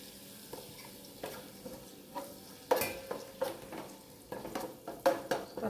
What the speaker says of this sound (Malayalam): പച്ചമുളക് ഇട്ട് കൊടുക്കുന്നു.